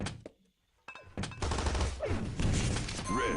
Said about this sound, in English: Wow, nice shot from Kinrays.